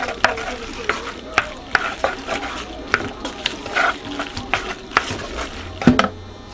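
A spoon repeatedly scrapes and clacks against a bowl while dill is mixed into macaroni salad, giving close, fairly loud strokes in an irregular rhythm with a heavier knock near the end.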